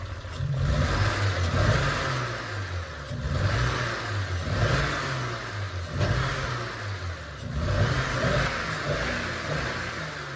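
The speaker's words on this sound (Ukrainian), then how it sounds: "перевіряємо отклик на газ" A 2.5-litre Honda Civic drift car engine, warmed up, is revved repeatedly in a throttle response test, with four or five rising and falling blips close by and the engine idling between them.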